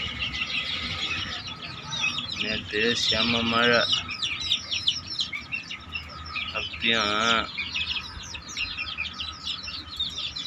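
Young chickens chirp in a rainy rural yard, with repeated high peeping throughout and two louder clucking calls from a hen partway through, while someone talks.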